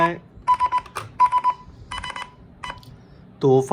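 A phone sounds an alert triggered by the find-my-phone feature of an ID116 Plus smart bracelet: loud, close, pulsed electronic beeps in repeated bursts, ending in a rising chirpy tone.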